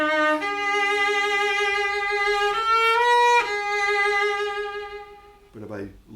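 Solo cello played with vibrato and heavy bow weight, a rich sustained line of a few bowed notes changing pitch, close and full, ending with a brief spoken voice.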